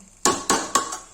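A metal lid settles onto a cooking pot of Kashmiri-style mutton with three quick, bright clanks about a quarter second apart, close and fairly loud.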